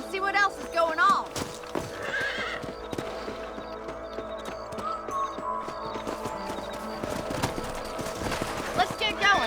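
Horses whinny and hooves clip-clop in the Red Dead Redemption video game, set against a dense bed of music and other game sounds, with a loud neigh near the start.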